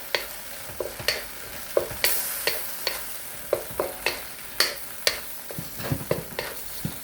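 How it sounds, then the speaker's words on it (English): Squid and scallion stir-fried in black bean and oyster sauce, a close sizzle punctuated by quick, regular clanks and scrapes of the spatula tossing the wok. "Now we'll add the scallion. And just stir fry."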